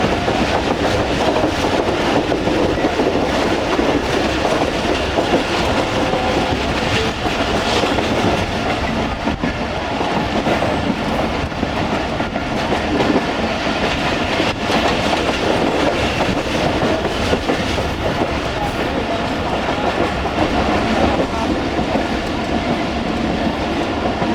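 Musa Pak Express railcar running through Lahore, a steady loud rumble with rhythmic clickety-clack of wheels over rail joints throughout, no voices.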